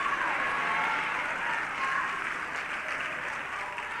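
A crowd audience claps steadily, dense and sustained applause filling the room at an even, fairly loud level throughout.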